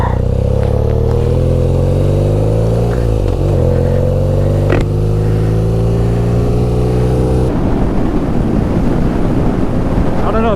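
A BMW R nineT motorcycle riding on the road, its engine droning loudly with rising pitch as it accelerates under heavy wind rush, then shifting to a rougher, rumbling tone.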